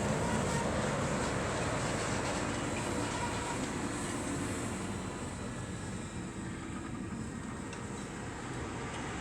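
Fendt 240 tractor ploughing a large field in Suffolk with a six-furrow plough, a steady broadband engine rumble heard from a distance, continuous and fairly even throughout with no talking.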